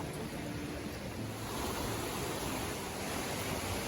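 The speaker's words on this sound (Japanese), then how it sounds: "阿弥陀ヶ滝、すごーい。" Amida Falls, a waterfall in Gifu, Japan, rushes as a dense, steady roar that fills the whole scene without pause.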